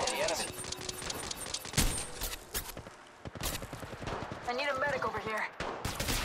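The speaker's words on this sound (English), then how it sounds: "The enemies are shooting at me." Rapid gunfire bursts and single shots crack through a firefight in the mobile shooter game Apex Legends Mobile, close and loud, mixed with game voice lines and in-game chatter.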